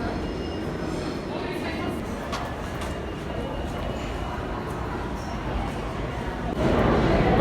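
A New York subway train rumbles underground, a steady dense roar with faint metallic squeals, getting louder near the end, with a voice talking over it.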